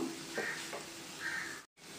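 Fresh grated coconut frying in a pan for a broccoli tomato fry, giving a steady soft sizzle with a couple of light stirring scrapes, close and moderate, then a brief cut to silence near the end.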